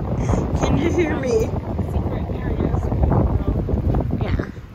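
Gusty wind buffets the microphone with a low rumbling roar throughout, while people talk over it outdoors on a paved hiking trail in Arizona.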